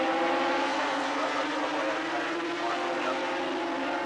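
A British Armstrong 250cc racing motorcycle with a Rotax engine at a Grand Prix race at Bathurst, its engine a steady, sustained drone held at an even loudness throughout with no talk over it.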